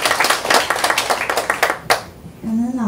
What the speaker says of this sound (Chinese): 我们给美女美华一个热情的掌声